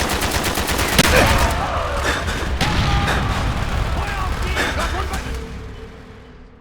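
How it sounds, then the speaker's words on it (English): Mortar and gunfire in the Call of Duty Black Ops video game, heavy booming shots and rattling fire in a busy battle mix with shouted voices, fading toward the end. "Firing mortar!"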